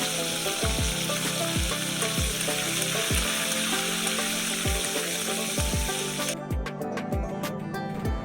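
Mustard seeds, fenugreek and urad dal sizzling in hot oil for upma, a steady close frying hiss under background music, with sharper crackles toward the end.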